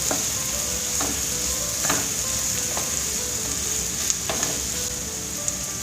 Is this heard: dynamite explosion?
no